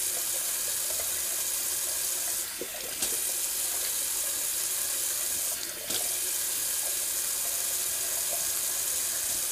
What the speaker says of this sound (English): let me wash this alum off the face